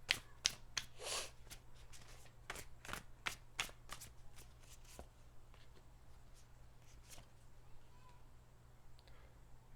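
Tarot cards are shuffled and drawn in a quick run of crisp riffling snaps and slaps over the first few seconds, then a few softer card flicks against a steady low hum.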